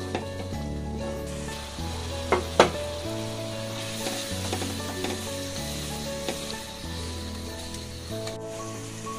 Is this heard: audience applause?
no